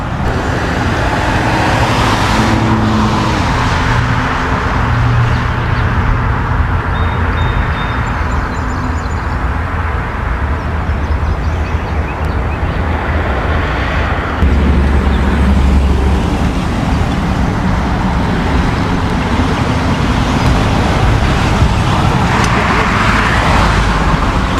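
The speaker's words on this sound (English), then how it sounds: "Busy highway type area here, so let's see how much traffic this place brings in today." Busy highway traffic rushes past in a continuous loud roar of cars, trucks and buses, with no break in the wash of engine and tyre noise.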